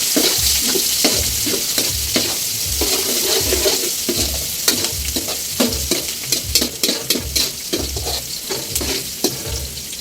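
Chopped ginger sizzles and fries in a pan while being stirred for dinuguan, with steady close frying hiss and repeated scraping, clinking stir strokes throughout, no talking.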